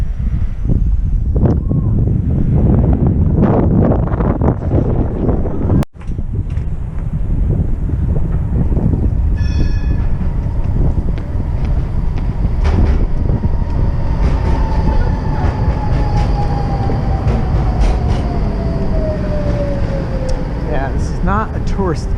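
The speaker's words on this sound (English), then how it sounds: "It's just for the tram down the middle of the city, which is pretty cool." A city tram runs down the middle of a car-free street in Porto, a loud steady rumble with rail squeal and clatter, close by, over wind noise on the microphone.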